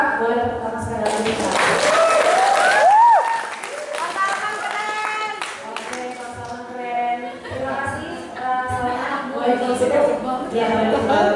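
Audience applause at a university thesis proposal presentation, steady clapping filling the room throughout, with a voice speaking over it and cheering mixed in, close and loud.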